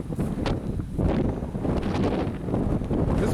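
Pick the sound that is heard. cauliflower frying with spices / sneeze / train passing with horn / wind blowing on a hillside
wind blowing on a hillside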